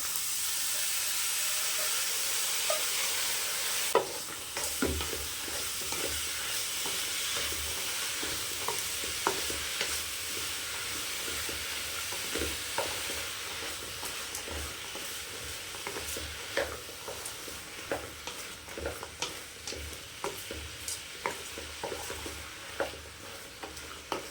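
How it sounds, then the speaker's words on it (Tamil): Bottle gourd frying in a pan with freshly ground pepper, chili and coriander powder, a steady close sizzle and hiss broken by repeated scraping stirs, no talking. "அந்த பொடியை சேர்த்துக்கலாம் க்ளீன் பண்ணி வச்சுருக்கிற சொரக்காய் சேர்த்துக்கலாம்"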